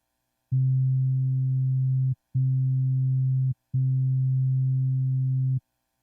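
The Lows trap synth preset from the Maschine Pure Drip expansion plays three sustained deep bass notes with clean, steady tone and abrupt starts and stops, loud and alone.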